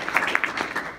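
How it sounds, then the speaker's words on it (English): Short, light round of applause from an audience at an internship presentation event, a few distinct claps rising out of a soft, brief patter that fades quickly. "so they can still get a little round of applause."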